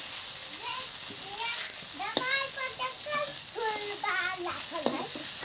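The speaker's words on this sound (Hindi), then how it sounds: "उसी में क्रंची और अच्छे से पके हुए अरवी के पत्ते फ्राई करेंगे" Taro (arbi) leaves frying in a little oil, a soft continuous sizzle running steadily underneath someone talking throughout.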